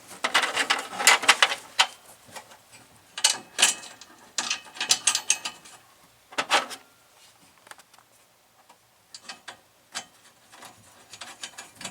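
Bolt being snugged on a car seat mount during a power bucket seat swap from a 5th gen Camaro, with bursts of quick ratchet clicks separated by short pauses.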